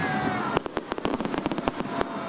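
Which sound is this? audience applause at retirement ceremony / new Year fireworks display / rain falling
new Year fireworks display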